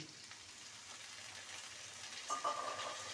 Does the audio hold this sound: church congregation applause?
no